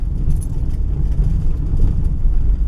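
Vehicle rolling along an old, unmaintained logging road, a close, continuous low engine rumble with light rattles and bumps, no talking.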